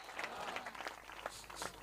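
Audience applause fills a birthday thanksgiving prayer gathering in Karanjkhed, a dense, steady wash of many hands clapping at moderate loudness with no voices over it.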